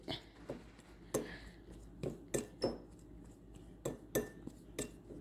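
Chicken dumpling dough being mixed with flour in a bowl, giving soft irregular clinks and scrapes of a utensil against the bowl. The sounds are close and quiet with slight rustling between strokes.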